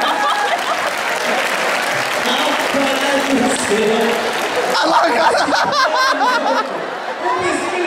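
Audience applause fills the room at a knife-throwing act, steady clapping throughout with scattered laughs and chatter mixed in.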